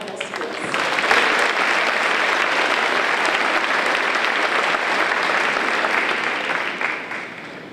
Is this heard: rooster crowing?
no